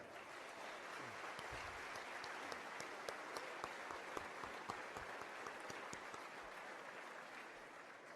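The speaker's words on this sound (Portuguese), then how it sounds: "para os quais peço uma grande salva de palmas." An audience at a lunchtime political coalition rally in Guarda, Portugal, breaks into a long, dense round of applause that holds steady from start to finish, with a few sharper claps standing out.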